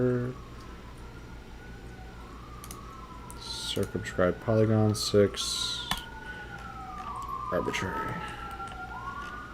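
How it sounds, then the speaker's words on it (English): Emergency vehicle sirens wailing outside in Philadelphia, a distant rising and falling tone running through the whole clip, faint under someone speaking and bursts of computer keyboard clicking nearby. "I apologize if you hear the sirens around me."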